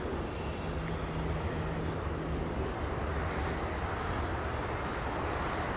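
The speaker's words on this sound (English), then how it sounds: "That American Airlines coming in from Miami." An American Airlines Airbus A321neo arrives at LAX from Miami, its jet engines a moderate, steady rumble with a faint low drone heard from some distance, constant throughout, no one speaking.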